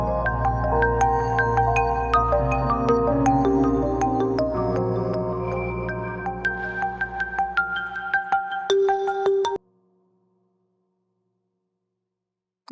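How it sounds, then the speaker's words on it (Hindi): A mobile phone rings with a bright, electronic melodic ringtone, loud and close, playing a busy tune of repeating tones before cutting off abruptly, followed by near silence. "प्लीज हानिया, मेरा फोन उठाओ यार"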